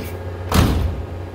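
A car door on a 1970 Buick GS under restoration swings shut with a single solid thud, close and fairly loud, followed by a short fading rumble in a quiet shop.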